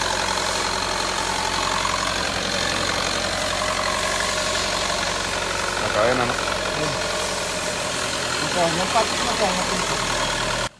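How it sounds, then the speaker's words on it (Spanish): A Chevrolet Captiva 2.4 Ecotec engine with a worn timing chain idles steadily with a rough, knocking undertone, close and continuous; a voice speaks briefly over it partway through. "Escuchen el sonido en este motor."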